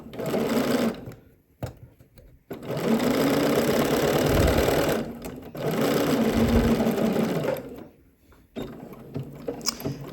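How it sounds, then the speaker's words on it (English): A sewing machine top stitches a swimsuit seam in two long, steady runs of close, loud whirring, separated by short pauses with small clicks and handling noises, with no talking. "top stitch this in place about 1/8 of an inch away from the seam line"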